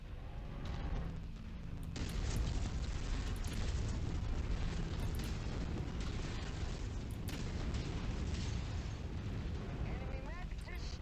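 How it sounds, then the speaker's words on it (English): A mech blows up in MechWarrior 5, a sustained roaring blast with rumbling debris and crackle that swells and lingers for several seconds, heard over game sounds with voices talking. "Enemy mech destroyed."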